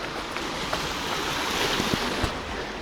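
Black Sea waves wash onto the coastal rocks near Odesa on a mild late-autumn day, giving a continuous close roar of surf and splashing with some wind noise and no talking.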